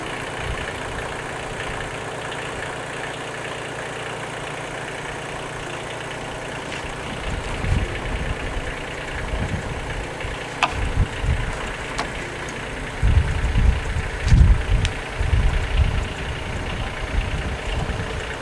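A vehicle engine idles with a steady low rumble while backing up a trailer carrying an 18-foot sailboat, swelling into heavier bursts of engine noise toward the end.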